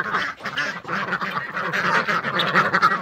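A flock of pastured ducks quack loudly and continuously at close range, overlapping nasal calls crowding together at feeding time.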